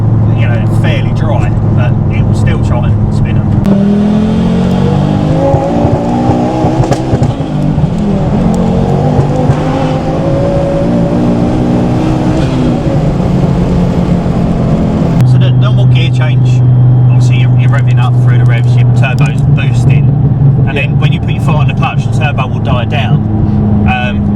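Tuned Ford Focus ST with around 530 bhp, its engine revving hard against the limiter, a loud sustained droning roar with pitch changes and brief drops as revs fall and climb again.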